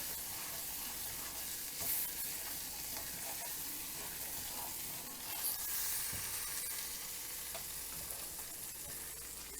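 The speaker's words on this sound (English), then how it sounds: "Give it a stir." Jeera powder and turmeric are stirred in a pan after the flame is switched off, a faint, steady sizzling hiss with soft occasional scrapes, quiet and even throughout.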